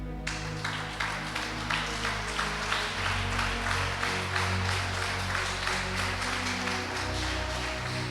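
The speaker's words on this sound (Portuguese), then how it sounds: "Agora pode bater palmas para Jesus." A church congregation claps in rhythm, a steady beat of many hands repeating about twice a second over a low sustained hum, with faint voices mixed in.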